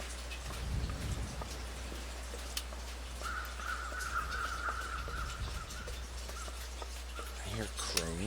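Crows cawing somewhere in the distance amid the snowy wilderness of The Long Dark's Timberwolf Mountain, faint and drawn out over a steady wash of rain-like ambience, with a person talking over it.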